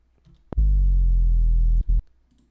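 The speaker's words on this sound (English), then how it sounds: "so that makes it have like a little bit of a pitch drop." Serum synth bass patch with an envelope pitch drop, distortion and compression: one loud sustained low note of about a second and a half, dense with harmonics and sliding slightly down in pitch, cut off sharply, then a brief second hit.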